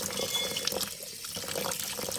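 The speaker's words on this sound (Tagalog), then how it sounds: "Itanapat ko na sa gripo." Tap water runs over salted shrimp paste in a sink, a steady close splash and trickle that keeps going without talk.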